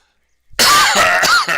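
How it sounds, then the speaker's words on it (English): A person coughs and clears their throat in a short harsh burst of two or three rasping hacks after a moment of silence, close and loud. "We're both coughing a bit here"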